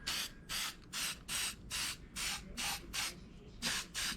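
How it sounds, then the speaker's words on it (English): Short bursts of a cleaner sprayed from a spray can on a K20 hiss close up in a steady rhythm, about nine quick pulses with brief gaps and no speech. "we spray this, let it sit for 20 minutes"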